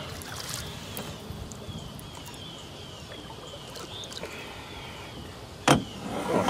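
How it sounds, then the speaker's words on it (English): Steady low drone of a bass fishing boat's motor with a constant rumble, one sharp thud near the end. "My boat's moving too fast."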